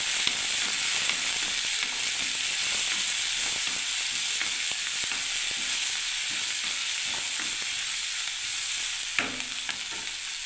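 Mixed vegetables with beetroot, carrot and tomato fry in a pan with a loud, dense, unbroken sizzle, while faint scrapes of stirring run underneath.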